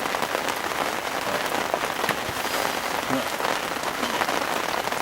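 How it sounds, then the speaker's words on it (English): A heavy downpour lashes down at an outdoor fishing lake at Todber Manor, a loud continuous hiss of rain close by with scattered sharper drop hits and no talking. "hope you can hear me over this rain"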